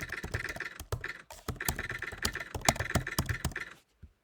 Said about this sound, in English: if I just turn this on, it will activate the typewriter noises